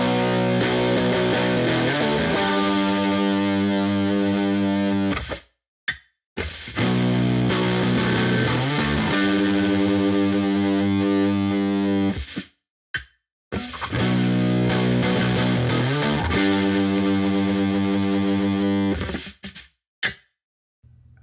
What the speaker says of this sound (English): let's turn on some distortion and test out these kill switches